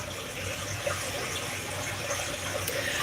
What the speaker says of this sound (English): I'm going to see if I can keep this water going in the background.